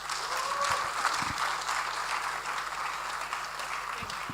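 Applause from an audience right after the launch of Ghana Evaluation Week is declared: steady, dense clapping that fills the room for several seconds at a moderate, even level, with no talk over it.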